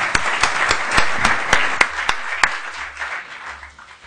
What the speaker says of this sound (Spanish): solo pediría un pequeño aplauso para estos maravillosos ponentes